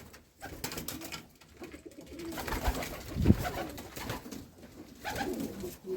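Common wood pigeon squabs being fed at a village home, giving soft coos and faint calls near at hand amid rustling and handling noise, with a louder burst midway.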